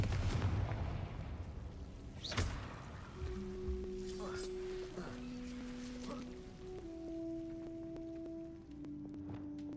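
Fire-spell blasts and booming impacts from Hogwarts Legacy combat ring out repeatedly over a dense game soundscape. Sustained magical tones follow, and a voice calls out spell names during the action.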